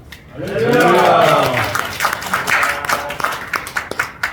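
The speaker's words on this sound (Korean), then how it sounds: "김영진 목사님 나오실 때 큰 박수로 환영하시겠습니다." A church congregation gathered for a men's fellowship morning service applauds to welcome a pastor, a burst of clapping that follows a loud sung or spoken phrase and continues unevenly to the end.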